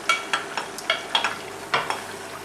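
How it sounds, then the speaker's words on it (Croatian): Onion dropped into a hot frying pan, with a string of quick separate sizzling scrapes and stirs, about eight short bursts over a faint steady hiss, close by. "U ovoj istoj posudi, u istom tiganju, stavit ću crni luk"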